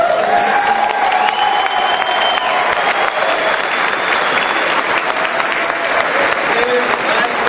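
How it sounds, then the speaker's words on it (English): A live audience at a political event gives a sustained, dense round of applause for the players, a steady wash of clapping with faint cheers mixed in. "Another round of applause for all our great players."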